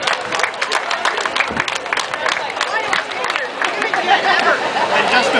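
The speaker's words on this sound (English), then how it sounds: "So let's have a big round of applause for them" A crowd at an outdoor Shelburne Police Torch Run event claps for Scotiabank in a continuous, dense patter of applause with voices and chatter mixed in throughout.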